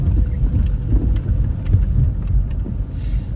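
Rain falls during a morning walk to work, a steady broadband patter with a low rumbling undertone and scattered sharper drops. It is loud and close and runs continuously.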